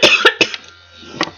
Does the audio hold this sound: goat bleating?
no